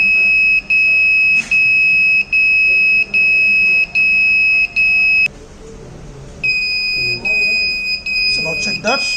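A UWB radar motion detector sounds its buzzer alarm: a piercing electronic tone pulses in even on-off beeps, falls silent for a moment, then comes back as a steadier tone, with faint background noise between.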